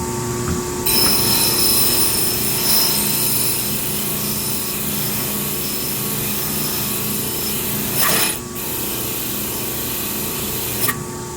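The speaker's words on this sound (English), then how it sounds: "get off some of the heavy rust with the wire wheel and see if we can get this a little bit more presentable" A wire wheel grinds heavy rust off a hatchet head, a steady loud abrasive whir running throughout, with brief surges near 8 and 11 seconds as pressure shifts.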